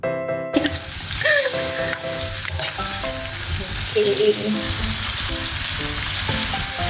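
String beans and tomato sauté for adobo: a loud, steady sizzle fills the pan, joined by stirring scrapes and a brief watery splash, with no talk.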